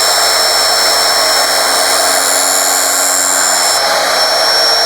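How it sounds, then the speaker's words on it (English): A chop saw fitted with a special blade cuts through a carbon fiber hydrofoil mast, a loud steady high-pitched whine that holds constant throughout with no pauses. "Because we use the chop saw and the special blade, we've got a very, very clean cut here."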